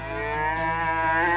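A young calf moos in one long, steady, loud call, brought into a veterinary clinic for a life-saving procedure.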